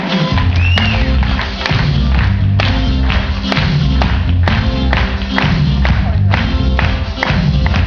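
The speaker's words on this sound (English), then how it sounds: "I need some clapping, everyone." Audience at a live show clapping along in a steady rhythmic beat, loud and continuous with crowd noise and music underneath, regular sharp claps repeating throughout.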